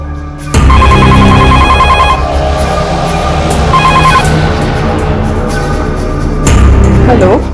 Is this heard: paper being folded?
no